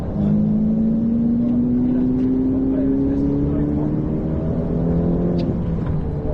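A Ferrari F8 Tributo's engine builds loudly and steadily, its tone rising as the car accelerates, with a constant roar running throughout and a voice speaking over it.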